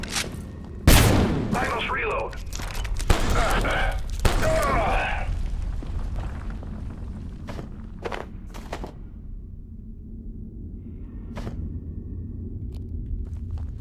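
Gunfire from a weapon in the video game Abiotic Factor: a sharp loud shot, then a burst of rapid shots that fades into scattered faint reports and quiet room tone, with talk over part of it.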